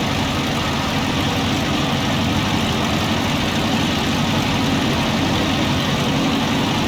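A Piper Cherokee light aircraft's engine drones steadily at reduced power on approach to landing, a loud, continuous low hum in the cockpit with no speech over it.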